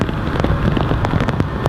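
Airliner CFM jet engines roar at takeoff power at an airport in rain, a loud, broad, steady rushing noise with patter and crackle mixed in.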